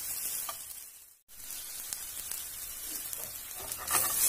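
Sweet potato pieces sizzle and fry steadily in a hot pan, a continuous close crackle with a brief pause as they are turned over, then resuming.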